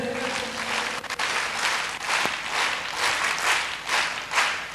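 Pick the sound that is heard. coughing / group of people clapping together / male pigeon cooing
group of people clapping together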